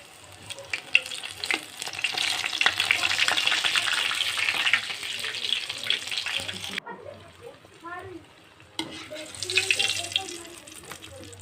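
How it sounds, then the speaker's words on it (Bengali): Sesbania (bok flower) fritters deep-fry in hot oil, a loud continuous sizzle and crackle that briefly drops away and then resumes, with faint talking in the background. "আমি আজকে তাই এগুলো ভাজা করছি।"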